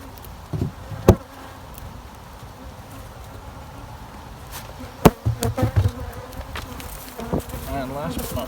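Honeybees work drawn comb in a Flow hive, their buzzing a dense, continuous hum close by. Scattered knocks and brief handling bumps rise over the swarm.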